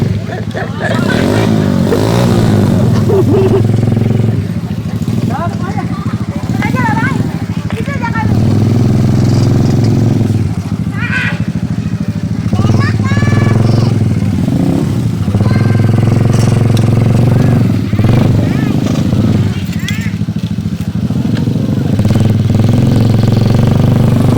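An off-road ATV engine idles and revs unevenly at close range while people talk loudly over it throughout.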